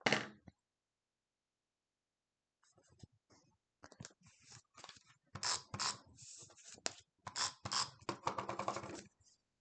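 Scissors snipping through scrapbook paper to trim a border, a quick burst of cutting, then a pause before a run of close, crisp irregular snips and scrapes at low level.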